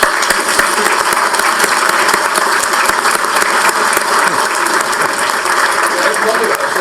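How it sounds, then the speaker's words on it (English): An audience at a Jefferson County mayoral debate applauds the candidates with steady, dense clapping that holds at a constant loud level for the whole stretch. "Let's give them a round of applause."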